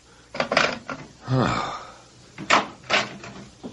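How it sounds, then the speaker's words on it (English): A back door opens and closes in a quiet house, giving a few distinct wooden knocks and thumps with a creaking swing in between, moderately close, with no talk over it. "I thought I heard someone come in the back door."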